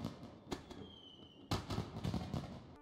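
Fireworks bursting in the sky during a nighttime display: a few scattered booms and crackles, followed by a denser cluster of loud overlapping pops and crackling, mid-distance, with no voices.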